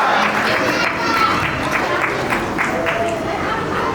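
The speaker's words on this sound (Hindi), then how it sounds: "जोरदार तालियों से अभिनंदन करें।" Steady applause from an audience at a Vishwakarma women's community annual gathering in Gumla, dense and continuous throughout with a background murmur of crowd chatter.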